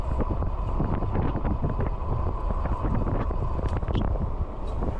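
Heavy wind buffeting the microphone while riding an electric bike at about 22 to 25 mph, a loud continuous rumbling roar that never lets up.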